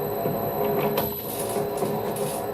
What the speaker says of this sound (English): We're running very slowly here, around about 400 RPM I should imagine.